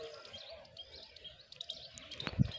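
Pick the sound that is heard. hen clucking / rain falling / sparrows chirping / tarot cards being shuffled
sparrows chirping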